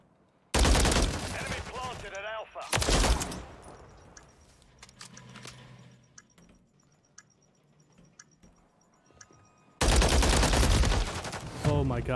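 Video game gunfire with heavy weapon recoil: loud broadband bursts of rapid shots at the start, again around three seconds and at the end, with quieter clicks and low rumble in between.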